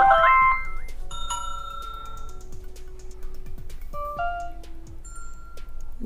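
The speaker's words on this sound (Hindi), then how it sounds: "जो आपको पसंद है वो यहाँ से आप इसे प्ले करके भी सुन सकते हैं छोटी छोटी रिंगटोन है" A short melodic mobile phone ringtone plays, bright synthetic tones stepping through a song tune with tick-like percussive clicks underneath, fairly clear and unaccompanied.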